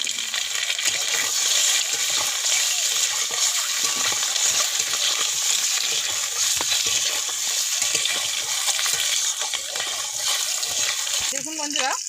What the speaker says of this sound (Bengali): ডিমগুলো এবার ভেজে নেব